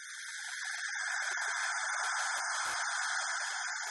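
Radio recording from the Cassini spacecraft's dive between Saturn's rings and the planet, rendered as sound: a steady, even hiss of charged particles that holds for a few seconds with faint crackles and one low thump.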